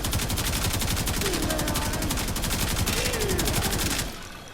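Rapid automatic fire from the Karak Wraith rifle in the shooter game Warframe, a dense, loud, continuous stream of shots for about four seconds that cuts off abruptly, with faint game effects under the volley.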